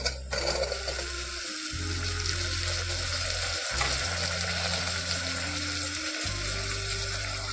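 Tomato, potato and cauliflower fry in hot oil with a continuous sizzle, broken by rhythmic scraping and stirring strokes and a low mechanical hum that cuts in and out.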